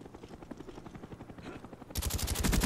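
A Cobra attack helicopter arrives in Call of Duty: Black Ops amid rapid machine-gun fire, a fast rhythmic rattling that jumps sharply louder partway through as the gunfire intensifies close by.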